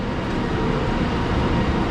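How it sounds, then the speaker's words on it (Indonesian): An LRT light rail train rumbles steadily at Pasar Seni station, a loud and continuous low drone with no talk over it. "Ini LRT-nya pendek ini."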